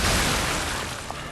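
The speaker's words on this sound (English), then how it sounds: "Forgot about the explosion." Explosion in the video game Lies of P: a loud, dense roar of noise that fades slowly over a second and a half, with no voices.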